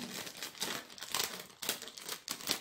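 Cardboard and plastic packaging for a Proscenic air purifier crinkles and tears in close, loud bursts as it is cut open with scissors, several rustling surges in a row with no talking.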